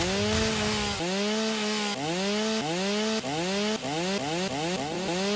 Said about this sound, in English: We're going to have to get rid of all these trees, but luckily I did bring some chainsaws.